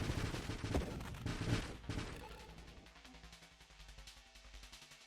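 Rapid, dense gunfire rattles through a Nova Drift space shooter game, a loud barrage early that thins into quieter rhythmic bursts toward the end.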